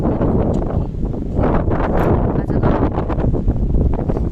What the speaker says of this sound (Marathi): मी आता गावाला आहे मस्त वारा सुटलाय